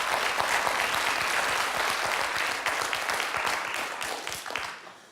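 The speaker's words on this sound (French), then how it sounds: "Le public qui applaudit à tout rompre" A quiz game show studio audience on Questions pour un Champion claps loudly and densely, a thick wash of applause that holds strong and then tapers off toward the end.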